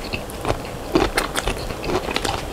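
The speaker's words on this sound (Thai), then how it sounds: "หวานกรอบหน่อไม้ต้มสุกเนาะ" Crunchy som tam papaya salad with boiled bamboo shoots and pickled shrimp being chewed close up, a run of crisp bites and wet crunches repeating steadily with no talk.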